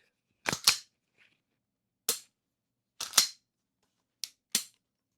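Recover Tactical 20/20N pistol chassis being charged by grabbing the optic: sharp close metallic clacks in pairs and singles with quiet gaps between them.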